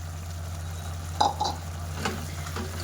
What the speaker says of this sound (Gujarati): હવે આપણે તેની અંદર ચેવડાનો જે ભૂકો હતો તે ઉમેરી દઈશું